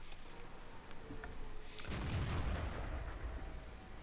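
World of Tanks tank gunfire from an enemy Chi-Nu Kai shooting from stealth behind the player's tank, heard as a heavy boom that swells into a loud rumbling blast over ongoing low battle noise.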